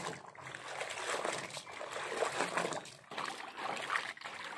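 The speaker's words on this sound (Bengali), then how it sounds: "না কাপড়টা ধুয়ে নিই" Clothes being washed by hand with water, a steady wet sloshing and trickling with splashes that runs continuously for several seconds at close range.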